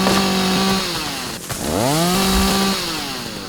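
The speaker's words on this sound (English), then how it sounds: "See the chainsaw's a little finicky sometimes. When you start and stop it like I'm doing." A chainsaw in the video game Rising World revs loud and close, its engine pitch dropping as it is stopped, then spinning back up and easing off again.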